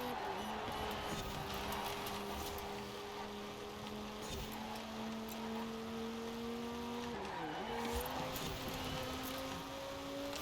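A race car on race tyres drives across sand in a video game, its engine a steady, droning hum that climbs slowly in pitch and dips briefly midway before continuing.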